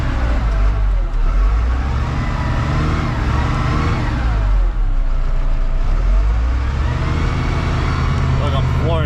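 Loader engine held at full throttle while stuck in a salt pile, a loud steady low drone with no change in pitch, heard with a voice talking over it throughout.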